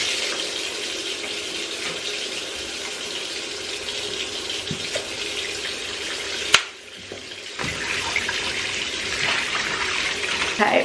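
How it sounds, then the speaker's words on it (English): Bath tap running to fill a bathtub, a steady close gush of water with hissing splash that briefly cuts out and then resumes, continuing without talk. "let me run the bath"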